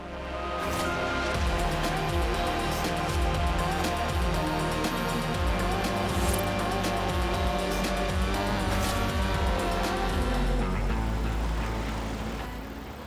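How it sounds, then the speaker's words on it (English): An Audi driven fast in the racing game Forza Horizon 4, its engine roaring loudly and steadily, with gear shifts, rising revs and brief tire squeals throughout. "I could put my foot down and enjoy the speed and sounds of the Audi"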